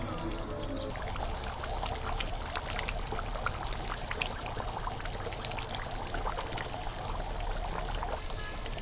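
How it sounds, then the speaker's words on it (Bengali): Water is poured steadily into a pan of potato fry (aloo bhaji) on the stove, a continuous soft trickle and splash heard fairly faint and close throughout. "পরিমাণ মতো পানি দিয়ে দিব"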